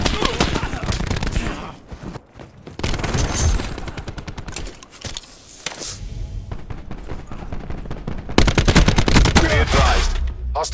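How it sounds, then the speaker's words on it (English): A hostile sentry gun firing in Call of Duty Black Ops 4, loud sustained bursts of rapid automatic gunfire with short pauses and dense overlapping shots throughout. "Hostile sentry working."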